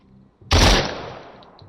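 One loud burst of automatic gunfire from a PS4 VR survival shooter, close and sharp, lasting about a third of a second before a fading decay with a couple of faint clicks afterward.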